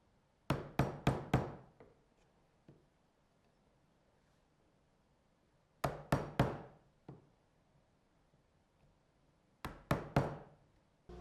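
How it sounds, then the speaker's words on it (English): A chisel is struck to square up mortises in wood, three sharp bursts of three or four quick knocking mallet blows separated by quiet pauses, with a faint extra tap after each burst, close and alone. "I used my chisel to square up the mortises."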